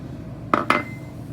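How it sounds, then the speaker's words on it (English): Two quick metallic clinks of a spoon against a pot as vanilla is stirred into an ice cream mixture, brief and close against a quiet kitchen background. "And just stir that in so that it's throughout the mixture."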